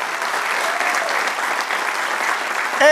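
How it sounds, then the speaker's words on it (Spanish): Sustained applause from a large church congregation fills the room during a sermon, steady and dense throughout, with a voice cutting in at the very end. "Denle un aplauso al Señor."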